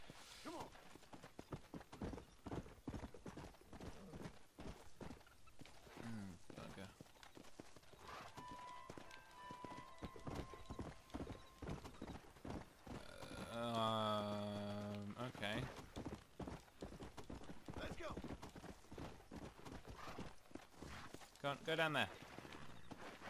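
Horse hooves clip-clop at a steady walking rhythm in the Western video game Red Dead Redemption, running under near-constant talk, with in-game music and effects rising midway.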